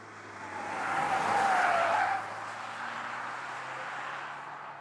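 Tires on a Volvo XC60 Recharge Polestar Engineered screech around a corner at about 80 km/h, a sustained squeal that swells and then eases over steady road and engine noise.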